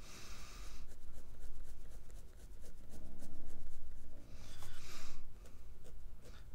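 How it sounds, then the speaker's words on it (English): Pen cross-hatching an ink drawing on paper, a steady run of quick scratchy strokes with short pauses between bursts, close and fairly faint, with no talking. "And I'm going to throw some cross-hatching in here."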